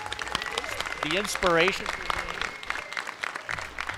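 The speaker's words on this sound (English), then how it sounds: "let's give him a round of applause" Audience applause at a comic convention panel, a wash of clapping rising under a host's amplified voice and brief laughter-like whoops, with talk continuing over it.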